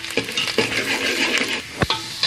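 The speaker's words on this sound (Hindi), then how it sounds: "पहले हम इसमें लहसुन डालेंगे। लहसुन को हम गोल्डन ब्राउन होने देंगे।" Garlic frying in a pan while kadhi is being made, with steady sizzling broken by a few sharp stirring scrapes and light clinks of a spoon against the pan.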